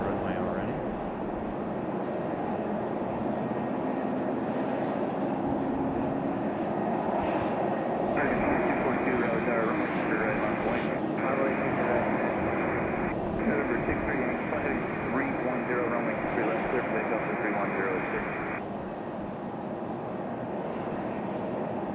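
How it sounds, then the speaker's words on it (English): An Airbus A319 airliner taxis toward the runway at Raleigh-Durham International, its engines giving a steady, broad roar from some distance, while a person talks over it. "our A319 to Philadelphia is on the move. Making its way out to the runway already."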